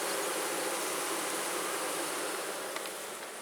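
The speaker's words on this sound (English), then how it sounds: "I just wanted to get this camera close so you guys could hear it. This is right above the hive. They're just all going to town." Honey bees swarm just above their hive in a dense, steady buzzing drone, loud and close with no other sounds or voices.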